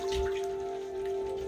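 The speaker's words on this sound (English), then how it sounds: "now it's starting to rain outside" Rain falls steadily outside a closed window, a soft continuous patter of drops heard from indoors, with a steady tonal hum running underneath throughout.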